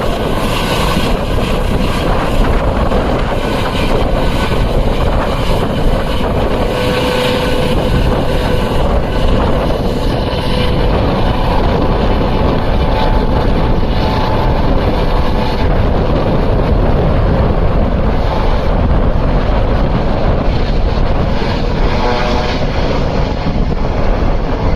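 A loud, continuous roar of helicopter engine and rotor noise in flight, close and steady from start to finish.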